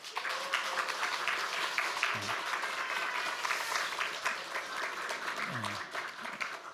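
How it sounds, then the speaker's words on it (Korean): A church congregation claps steadily in warm applause at a Sunday service, an even wash of many hands throughout with a faint voice underneath. "인사할 때 축하 박수 한번 부탁을 드립니다"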